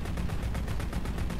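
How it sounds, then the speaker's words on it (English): Anti-aircraft ground fire in Crimson Skies: a rapid, steady stream of gun bursts, about eight to ten evenly spaced shots across a second and a half, loud and dense. "Watch the AA ground fire."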